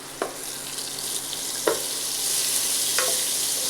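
Spice paste for a soya chunk curry sizzles in a pan, a steady hiss broken by three distinct scrapes of a spoon as it is stirred.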